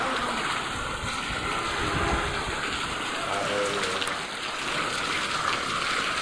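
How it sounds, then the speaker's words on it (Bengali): Heavy rain falls steadily, a constant wash of hiss and patter close by that stays even from start to finish, with faint voices now and then underneath. "আমি আসার পর পর জোরে বৃষ্টি শুরু হয়েছে"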